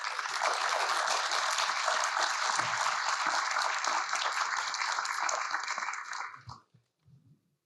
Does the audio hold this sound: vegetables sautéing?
no